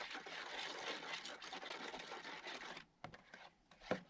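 Sumac berries stirred into water in a bowl for Navajo pudding, a steady close scraping and swishing for about three seconds, then a few short knocks and scrapes.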